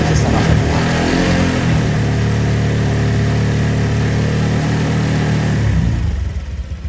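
A Honda Airblade 150 scooter engine runs loud and close after throttle body cleaning, holding a steady rev for several seconds before the sound drops away near the end.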